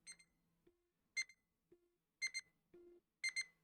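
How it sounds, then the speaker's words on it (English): Nintendo Switch 2 blue Joy-Con controller resting on a table, giving short bursts of bright electronic beeps, roughly four groups of single and double chirps spaced about a second apart, fairly quiet with no talking. "if I put my blue Joy-Con down on my ground on my table, it will also beep"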